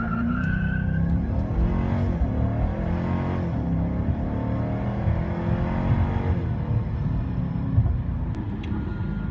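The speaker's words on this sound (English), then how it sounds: "last year I did a launch control video and I spun the tires like crazy" A Dodge Charger launching with launch control, tires spinning: a steady loud engine roar with rising and falling revs and tire squeal held over several seconds, close and continuous.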